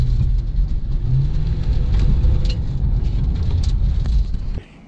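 Interior of a police K9 unit car cruising along, a steady low engine rumble and road noise that holds loud and even, then drops off abruptly near the end.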